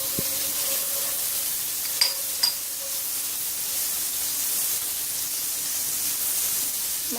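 Salted butter melts in a hot pan for Peshawari yakhni, giving a steady loud sizzling hiss with a couple of faint clicks, no voices.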